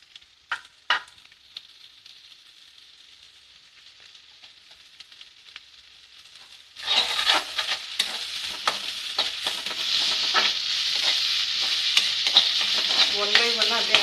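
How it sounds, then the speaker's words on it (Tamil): Onion drops into hot oil in a pan after a few faint clicks. A loud, continuous sizzle of frying follows, with stirring scrapes over it, and it grows denser toward the end. "நான் ஆல்ரெடி எண்ணெய் இதில் ஊற்றியாச்சு. இப்போ நான் ஆனியனை போட்டுடலாம்."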